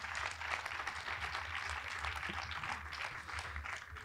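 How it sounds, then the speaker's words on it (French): Audience applause at a conference lecture session, a steady wash of many hands clapping, soft and somewhat distant, holding an even level without a break. "Je pense qu'on peut les applaudir aussi parce que c'est un gros travail."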